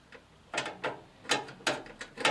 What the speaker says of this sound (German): machen wir sie der Reihe rum fest, also die 3 hinteren und die vorderen auch wieder ein bisschen festziehen und dann die 2 in der Mitte